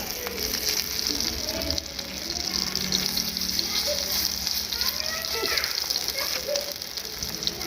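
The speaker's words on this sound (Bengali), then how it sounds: "বেগুনটাকে আমি ভাজতে দিলাম। খুব সেকা তেলে ভাজা হবে এটা।" Eggplant fries in very hot oil, giving a steady, even sizzle that runs throughout at moderate level, with faint background sounds.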